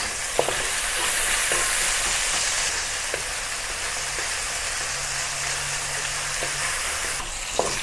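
Beef sears in hot oil in a wok for black pepper beef udon, a steady, loud sizzle with occasional light taps and stirring clicks, no voices.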